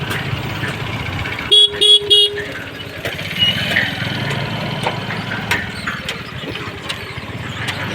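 A motor cart drives past with its horn sounding three quick honks, then its engine rumbles on steadily under road noise.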